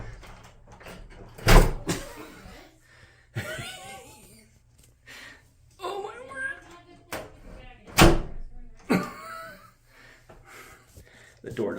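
Badly hung bathroom door in a run-down Utah hotel room being pulled shut hard, two sharp loud bangs several seconds apart, with people talking and reacting between them.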